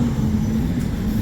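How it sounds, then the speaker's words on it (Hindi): A metro train passing along a busy, traffic-jammed road in Makkah early in the morning makes a steady low rumble with a faint hum, continuous and fairly loud throughout, with no talk. "ये मेट्रो गया"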